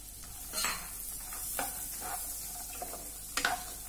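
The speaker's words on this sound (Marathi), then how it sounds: "हे आपण थोडं परतून घेऊया।" Carrot pieces and whole sweet corn kernels being sautéed in a pan over medium heat for a sweet corn soup, a soft steady sizzle with a few light stirring scrapes and spoon taps, close and quiet.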